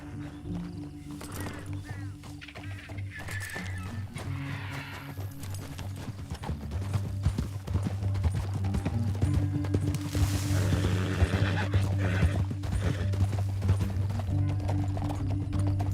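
Horse hooves clip-clop steadily through a Red Dead Redemption 2 canyon chase, rhythmic and close over a droning music bed, with an occasional whinny and no talk.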